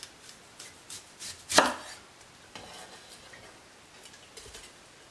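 Sweet onions sliced about 3/8 of an inch thick, a knife tapping a cutting board in a loose run of light chops with one sharp louder strike near the middle, close and quiet with no talk.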